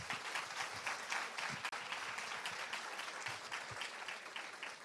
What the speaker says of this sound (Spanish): Les damos un aplauso para recibirlos.